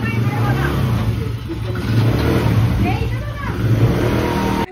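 A car engine revs hard and steadily close by, a continuous loud roar that rises and falls slightly, with people talking over it.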